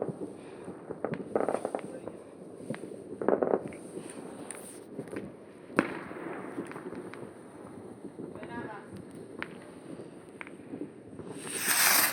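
Fireworks bursting outdoors in Pravenec, a string of scattered bangs and crackles at a middle distance, with people chatting and calling out throughout.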